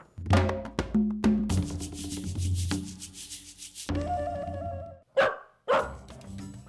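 Dogs bark and yip in short bursts, loud and close, with rustling and scuffling between the barks.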